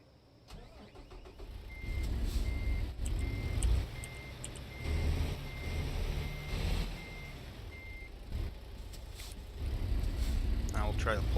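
In American Truck Simulator, a heavy-haul truck backs out with its reversing alarm beeping in a steady, evenly spaced series over a low rumbling engine, while a voice talks over it.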